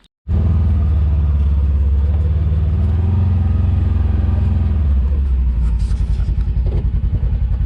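A vehicle drives in high gear during an outdoor gold-prospecting outing, its engine a loud, steady, close rumble starting abruptly and holding, then taking on a pulsing, throbbing beat toward the end.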